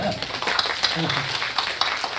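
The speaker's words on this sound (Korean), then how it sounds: "박수 한번 주시요" Short burst of scattered audience clapping in a lecture hall during a talk on Nammyeong studies, busy and mid-level throughout, with voices mixed in.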